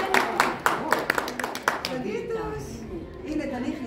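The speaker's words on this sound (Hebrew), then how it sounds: "בואו נמחא כפיים לאליהו" A small group of people clapping hands at an art-therapy collage workshop, a short burst of scattered claps that fades out as a voice speaks over it and carries on alone.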